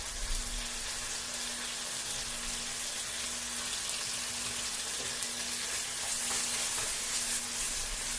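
Homemade garlic ginger paste sizzles in a pan beside softened tomatoes, a steady broadband frying hiss with a faint low hum running throughout, no voices over it.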